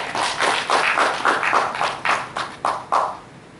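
Audience applause for the Department of Marketing head at an academic event, heard as a short run of loosely spaced claps that come in uneven bursts and thin out to a few distinct hits near the end.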